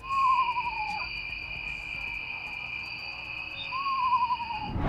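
An eastern screech owl in the Louisiana wetlands gives two eerie descending whinnying calls several seconds apart, clear and fairly near, over a constant high drone of insects.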